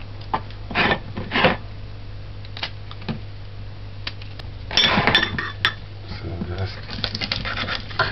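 Garlic cloves smashed and crushed while seasoned pumpkin rice is being prepared, a few sharp thumps and knocks near the start and a denser burst of clattering taps midway, set against a low steady hum.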